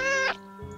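A cat gives one short, close meow that trails off, followed by quiet room background.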